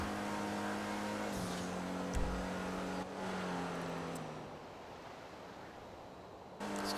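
Cars racing in Grand Theft Auto Online, a loud engine drone with a revving, shifting pitch, a brief thump, then another car roaring past near the end, with no voices.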